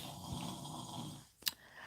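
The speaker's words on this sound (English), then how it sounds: "snoring in here" A man snores in a quiet room, a faint, steady rasping breath ending in a short sharp snort, with no talking.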